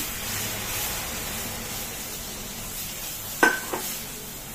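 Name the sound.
sugar water added gradually to besan frying in ghee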